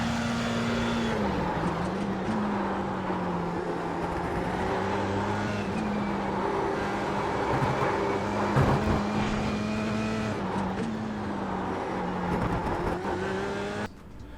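Racing car in the iRacing sim cornering, a steady engine drone with tire scrub and squeal layered over it through the turn, continuous and fairly close, easing slightly near the end.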